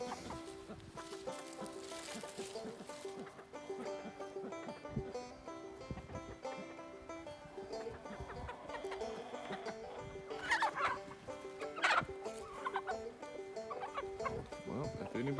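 Flock of ranch chickens up in a pasture cluck continuously, a dense steady chatter of overlapping calls with a few louder squawks toward the end, moderately distant and fairly quiet, no talking.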